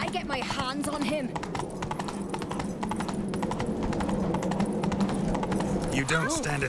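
Horse hooves clip-clop at a gallop in The Witcher 3, a steady rhythmic pounding carried under game dialogue and orchestral music, with a brief whinny near the end.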